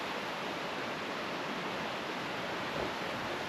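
Steady rushing water of a flowing creek beside campsites at Camp Creek State Park, a dense even hiss with no breaks, close by and fairly loud.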